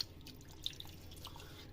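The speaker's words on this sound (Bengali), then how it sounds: "হাতে মশলাগুলো একটু পানি দিয়ে ধুয়ে দেব" Water drips and trickles briefly while spice-coated hands are rinsed during beef curry preparation, a soft, fairly faint splashing with a few small drops standing out.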